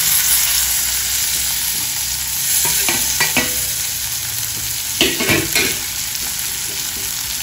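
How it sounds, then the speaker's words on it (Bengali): Lightly fried mushrooms tipped into a pan of fried onions, a loud constant sizzle with clustered clatters and scrapes of stirring partway through, no talk. "এবারে মাশরুম ভাজাটা দিয়ে দেবো।"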